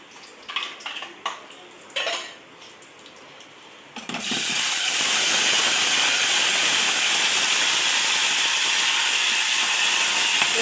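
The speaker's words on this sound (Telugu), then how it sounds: "ఈ టమాటా ముక్కలు వేసేసుకుంటాను మొత్తం" Tomato pieces tipped into a hot pan of Indian tempering for tomato rasam, first a few clatters and scrapes, then a sudden loud, steady sizzle and hiss that carries on close by without any talk.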